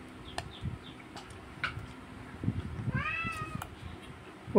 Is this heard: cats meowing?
yes